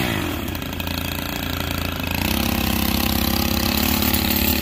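Stihl rotary scissors trimmer with two counter-spinning blades, edging along a lawn: a steady motorized whir and buzz that grows louder and rougher about halfway through as the blades bite in, with no voices.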